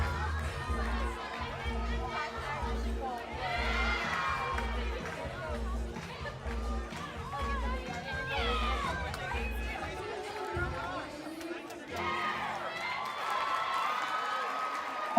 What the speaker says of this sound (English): I even see some people in the crowd clapping.